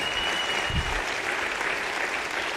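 Audience applause fills an indoor session hall, a steady, dense wash of clapping from many hands, loud and close throughout with no talk over it.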